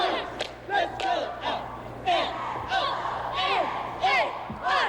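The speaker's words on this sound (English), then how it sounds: "listen to that crowd" Cheering, yelling spectators fill an arena at a 1987 high school cheerleading nationals, with loud whoops and shouts rising in repeated waves across the whole stretch.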